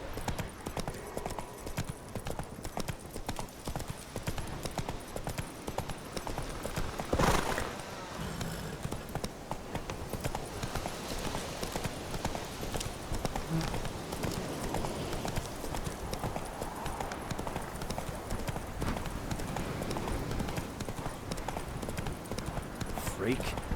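Horse galloping in The Witcher 3 video game, steady rhythmic hoofbeats under continuous game music and ambience, with a voice speaking partway through.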